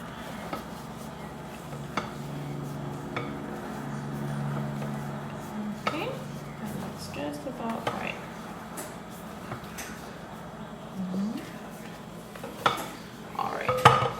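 A spatula folds whisked egg whites into tres leches cake batter in a bowl, giving soft scrapes and occasional utensil clinks against the bowl under a speaking voice.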